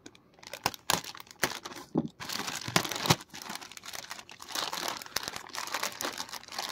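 Packaging for a Dragon Ball Super Super Hero Trunks DXF figure is opened close up, with crinkling plastic, sharp snaps and tearing in irregular bursts, fairly quiet overall and without speech.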